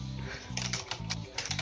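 A loud computer keyboard clatters in quick bursts of keystrokes, close and sharp, with short pauses between flurries and a low hum underneath.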